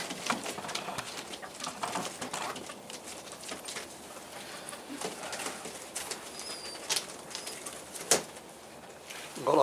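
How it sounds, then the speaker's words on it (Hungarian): A young pigeon coos softly while a breeder holds it during a showing of breeding stock, with faint, intermittent calls over steady background noise and a louder rustle near the end. "Ez egy a fiatal galamb."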